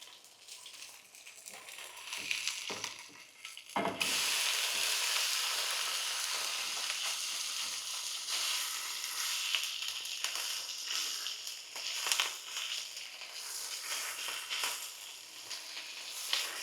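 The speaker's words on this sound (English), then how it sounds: "So I'm going to flip it and cook the other side." Tuna sizzles in olive oil in a pan; after a brief thud as the fish is flipped, a loud, dense, crackling fry carries on steadily and close.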